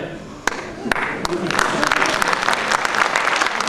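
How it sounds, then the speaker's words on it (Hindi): Applause from the audience at a Hindi comic poetry gathering, starting with a few isolated claps that quickly swell into dense, sustained clapping from many people, fairly close and loud. "किसी की आहुति पे भी आप लोग तालियां बजाते हैं"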